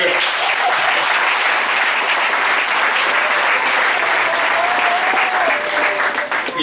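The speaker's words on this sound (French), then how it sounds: "acclamons le Seigneur" Loud, steady applause from a church congregation fills the whole stretch, dense and continuous, with faint cheering and voices mixed in during a prophetic worship service.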